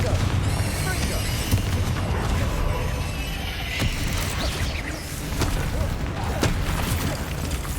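In the Hogwarts Legacy video game, a Confringo fire spell explodes with a heavy boom and rumbling blast amid clattering mechanical game sounds, with a voice speaking around it.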